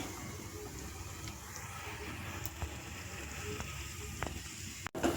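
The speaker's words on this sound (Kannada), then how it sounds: "ನಾನು ತುಪ್ಪದಲ್ಲಿ ದ್ರಾಕ್ಷಿ, ಗೋಡಂಬಿ ಮತ್ತು ಬಾದಾಮ್ ಇವನ್ನು ಚೆನ್ನಾಗಿ ಫ್ರೈ ಮಾಡ್ಕೊಳ್ತಾ ಇದ್ದೀನಿ" Raisins, cashews and almonds fry in hot ghee with a steady soft sizzle throughout, near and continuous, with faint occasional stirring clicks and a brief clatter at the very end.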